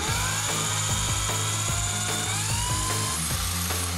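Power drill boring a hole through a motorcycle's air filter support while it stays mounted on the bike, a loud continuous whine with rhythmic grinding pulses, close and alone.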